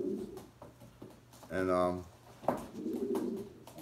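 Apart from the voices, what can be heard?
pigeons cooing in a racing pigeon loft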